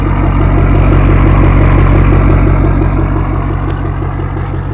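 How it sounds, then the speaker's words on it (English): A Ford 6.7 Powerstroke diesel pickup with a 5-inch AFE downpipe-back exhaust idles loud and close, a deep, steady throbbing rumble with no speech. "It's a 5-inch downpipe back, full exhaust, AFE."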